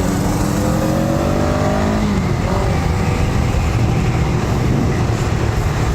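A Honda Rebel 500 motorcycle engine rumbles loudly and continuously while riding, with rising and falling rev tones and strong wind noise, close to the microphone, no voices heard.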